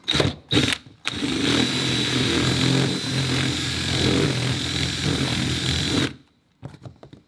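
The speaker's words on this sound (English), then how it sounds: "Doesn't matter what drill bit you use, just make it the hole bigger." A power drill whines steadily for about five seconds after a couple of short bursts, widening a hole on a Tesla Model Y or Model 3, then cuts off, leaving near silence.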